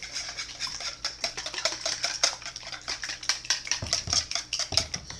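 Cinnamon being mixed into French toast batter in a large bowl, a rapid run of clicking, scraping strokes against the bowl with a steady whisking rhythm, close and fairly quiet.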